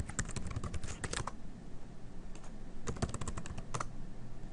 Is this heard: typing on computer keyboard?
yes